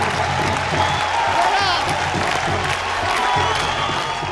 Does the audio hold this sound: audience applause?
yes